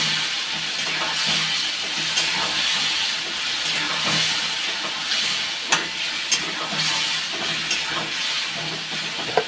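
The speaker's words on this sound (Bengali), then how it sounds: "মশলাটা দিয়ে একটু ভেজে নিয়ে ভালো করে কষিয়ে নিয়ে" Spices frying in a pan while being stirred, a steady hiss and sizzle with scattered scraping clicks from stirring, close and fairly loud, no voices.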